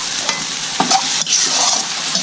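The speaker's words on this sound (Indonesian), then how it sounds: "Lagi proses goreng. proses goreng bumbunya." Spice paste for duck frying in a pan, a continuous hiss and sizzle with occasional stirring scrapes, close and steady, no voices.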